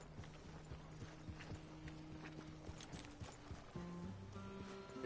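Hooves clip-clop in a steady walking rhythm in a PS4 video game, faint and distant. A low hum sits underneath, and tonal game sounds come in toward the end.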